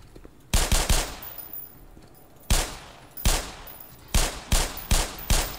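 Bursts of gunfire in the video game Black Mesa, loud and close, firing in irregular clusters of sharp shots with short pauses between them and no talking.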